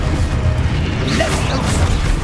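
Spell casts in the Hogwarts Legacy video game, Confringo and Descendo, give a dense burst of booming magical impacts and whooshes over a steady low rumble, loud and continuous.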